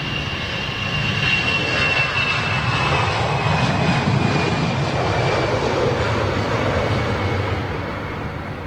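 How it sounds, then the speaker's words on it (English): An Aer Lingus Airbus A320 jet passes near London Heathrow, a loud sustained roar of broadband engine noise with a faint whine, swelling and fading slowly over about eight seconds. "Aer Lingus 320 that's, I think, possibly either going to Dublin or Cork"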